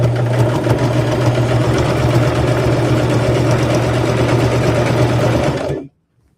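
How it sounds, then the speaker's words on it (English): A sewing machine runs steadily at a fairly fast pace stitching a rag quilt, its motor a loud continuous hum with a rapid needle chatter, close by and alone until it stops abruptly near the end. "I'm just sewing. And yeah, I am going a little faster this time."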